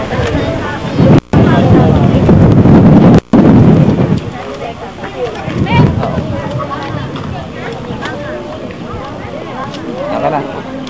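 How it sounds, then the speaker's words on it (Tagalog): Strong gusts of wind buffet the microphone outdoors, a loud continuous low rumble that dominates the first few seconds with two brief dropouts, then eases into softer rumbling under people talking. "Ang hangin!"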